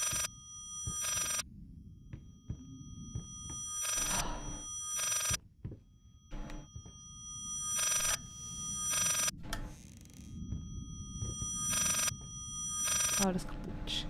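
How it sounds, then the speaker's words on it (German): In the horror game Layers of Fear, a telephone bell rings in repeated bursts, each a bright metallic trill with silent gaps between, over a low dark ambient drone and occasional talk. "Ich muss das Telefon abnehmen, es geht nicht."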